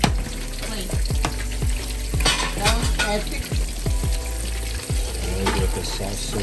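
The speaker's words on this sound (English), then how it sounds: "add the shrimpos to the pan with the sauce. Mix them well and stir." Chinese garlic shrimp fry in a pan with sauce, sizzling loudly and continuously while a utensil stirs and scrapes in repeated strokes close by.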